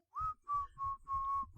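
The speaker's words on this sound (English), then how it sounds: "his newly mastered technique of inward whistling" Inward whistling, four short pitched whistle notes in quick succession, clear and close in otherwise quiet surroundings, each note held briefly with a slight breathy onset.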